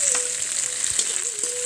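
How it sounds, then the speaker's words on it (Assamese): Chopped onion and tomato fry in mustard oil with cumin in a home kitchen, giving a steady, close sizzle with a continuous hiss throughout and no voices. "এইখিনি অকণমান ভাজি লৈছোঁ, বিলাহীটো মানে সম্পূৰ্ণৰূপে ভাগি যোৱাকৈ।"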